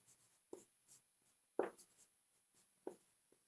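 Chalk or marker strokes on a board during a Hindi current-affairs lesson: a handful of separate short scratchy taps with gaps between them, close and quiet, with no speech.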